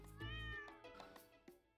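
A stray cat in the farming video game Stardew Valley gives one drawn-out, wavering meow followed by a few softer, short mews, heard alone against a quiet background.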